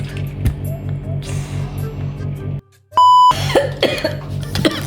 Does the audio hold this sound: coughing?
yes